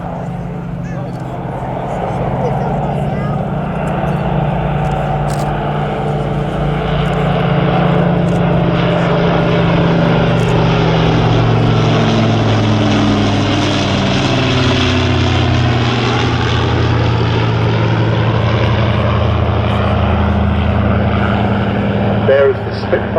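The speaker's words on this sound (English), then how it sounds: "the combined sound of the 4 Rolls-Royce Merlins and the 1 Rolls-Royce Griffon engine as they fly by in train" A Lancaster's four Rolls-Royce Merlin engines and a Griffon-engined aircraft fly past in formation at an RAF airshow, a loud, sustained piston-engine drone that swells and shifts in pitch as they pass, with faint voices underneath.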